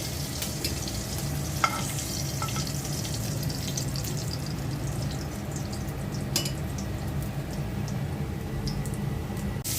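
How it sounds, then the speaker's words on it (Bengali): Hilsa fish frying crisp in hot oil, a dense, even crackling sizzle that stays steady throughout, with a few sharp spatters and utensil taps, close by. "এই দুটো মাছ আমি ভালো করে ভেজে নেব মাছটা কড়া করে ভেজে নিলাম"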